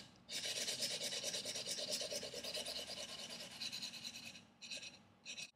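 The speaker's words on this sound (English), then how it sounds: "The 500 grit sandpaper." A knife blade is rubbed along 500 grit sandpaper to form a convex secondary bevel, making close, steady rasping strokes that continue for several seconds and then break into two short final passes.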